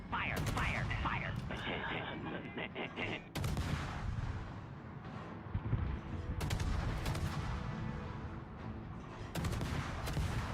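Naval guns firing in World of Warships, a dense barrage of heavy booms and blasts rolling over one another almost continuously, loud and close, with a voice shouting in the mix.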